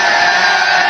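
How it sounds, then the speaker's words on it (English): Crowd yelling at an Apex Legends ALGS final, a dense, loud, continuous roar of many voices cheering at once. "Wait, the crowd is yelling."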